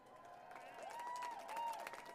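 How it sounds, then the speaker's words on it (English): A large outdoor crowd of young people claps and cheers at a voting-rights rally at the Lincoln Memorial in Washington, a distant, faint wash of applause with rising whistles cutting through it. "Clap yourselves up, young people"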